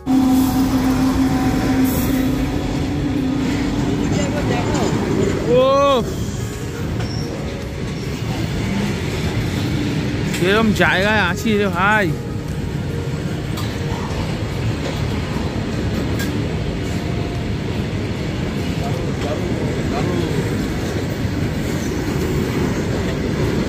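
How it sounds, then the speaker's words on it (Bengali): A coal freight train rolls past a rail crossing near Betla forest in Jharkhand, a loud continuous rumble and rattle of wagons with brief squealing wheel screeches around the middle. Someone speaks briefly. "রেল ক্রসিং এ দাঁড়িয়েছি, কয়লা যাচ্ছে, কয়লা।"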